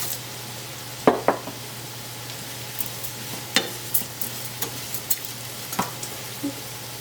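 Arborio rice for a celebratory risotto being stirred in a pan, with faint steady sizzling broken by scattered scraping and clinking knocks of a spoon against the pan, no one talking.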